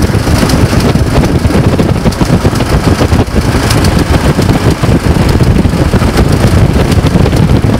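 A 1923 Ford Model T Speedster driving in high gear, its engine giving a loud, dense, rapid chugging roar mixed with heavy wind buffeting on the microphone throughout.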